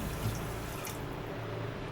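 A cup of water pours into a pan to make sugar syrup for a sweet, a steady splashing gush that fills the short moment on its own.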